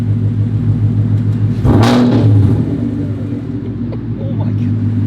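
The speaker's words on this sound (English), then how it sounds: "If you want to rev it, you can." 2021 Ford Mustang engine blipped in a single sharp rev near the middle, rising and falling quickly over a steady idle rumble, close by, with a voice talking around it.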